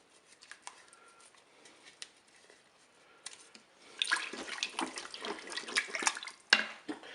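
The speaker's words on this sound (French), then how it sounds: "Allez, je vais maintenant ajouter l'eau." Water is poured into a Cookeo multicooker pot for pot-au-feu. It starts with faint, scattered trickles, then becomes a louder, splashing pour partway through that continues to the end.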